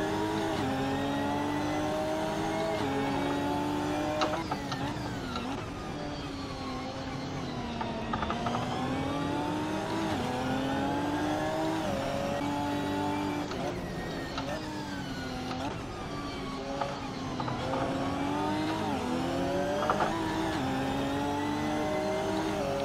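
Race car engine in the Assetto Corsa sim at the Lédenon circuit, revving and accelerating through repeated rising and falling gear pulls, loud and close throughout with a continuous droning tone.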